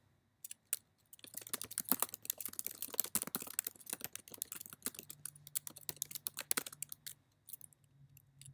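Quick, close typing on a computer keyboard comes in dense bursts of light key clicks for several seconds, quiet overall, with no talking.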